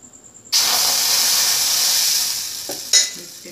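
Appam batter hits a hot pan with a sudden loud sizzle that holds steady for about two seconds, then fades as the pan is swirled, followed by a second brief hiss.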